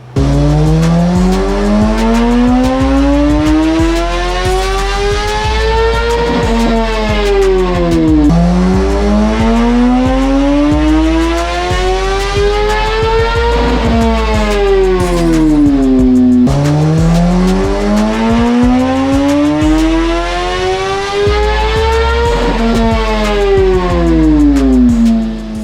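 A 2016 Kawasaki ZX10r sport bike, fitted with a flapper mod and a Sprint P08 air filter, screams on a dyno through three long wide-open pulls, each rising steadily in pitch before dropping back, loud and close with no talking.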